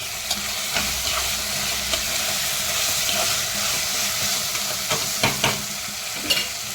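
Mint and coriander leaves sautéed in hot oil with softened tomato for a chicken curry, a steady close sizzle broken by repeated scraping stirs of the spoon against the pan.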